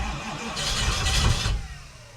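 A race car engine cranking over and catching, a rough rising roar that builds briefly and then settles, close by, with no talk.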